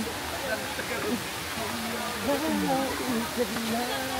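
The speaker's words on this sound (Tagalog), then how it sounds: "Hagimit Falls" Water pours steadily at Hagimit Falls, a broad continuous rushing that fills the background while people talk over it nearby.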